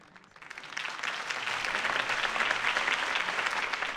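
Crowd applause with cheering in the video game Batman: The Telltale Series builds quickly from a quiet start and holds at a loud, dense level.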